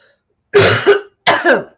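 Two separate coughs from a woman, each harsh and throaty with a short double burst, close to the microphone with a brief pause between them in an otherwise quiet room.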